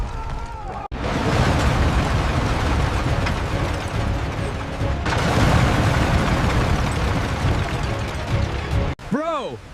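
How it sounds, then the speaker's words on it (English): A missile explosion and a tower building collapsing produce a long, heavy rumble with crashing debris and mechanical clatter, loud and sustained, framed by abrupt cuts, with a voice talking over it. "Missile launched. Oh my God, the building is collapsing."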